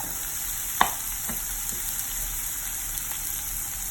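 Garlic sautéing in a pan for chicken stew, a constant bright sizzle with a few soft utensil taps, close and even throughout.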